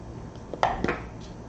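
Marinated basa fish and salt are mixed in a dish, making a few soft clinks and scrapes against the dish, quiet and close.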